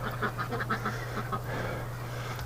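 Ducks quack in a quick series of short calls at a winter farm garden, fairly close, over a constant low hum.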